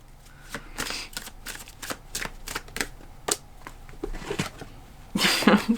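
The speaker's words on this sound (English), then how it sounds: "I'm going to pull one more card from the fairy deck." A fairy oracle card deck is shuffled by hand in a close, continuous run of crisp riffling and slapping card sounds, loudest at the end, with no speech.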